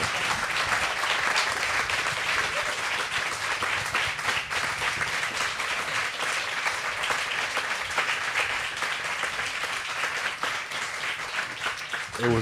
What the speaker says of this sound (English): could we please give a nice round of applause for these wonderful panelists up here